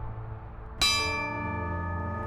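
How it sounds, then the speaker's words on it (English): A single bell tolled at a protest vigil outside a federal prison before an execution: one sharp, close strike that rings out with a long, slowly fading metallic hum over quiet background. "And we'll just keep tolling this bell"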